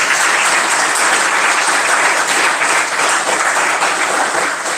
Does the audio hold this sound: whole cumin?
no